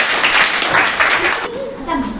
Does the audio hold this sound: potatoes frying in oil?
no